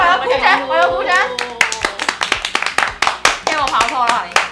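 Rapid bursts of hand clapping ring out in a studio during a Cantonese horoscope chat show, the claps uneven and close, with voices talking over them.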